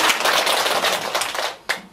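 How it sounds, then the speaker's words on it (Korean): Audience clapping and applause in a hall during a Buddhist monk's talk, a dense rustling burst that fades over two seconds with a brief final clap near the end. "큰 박수 한번 주시기 바랍니다"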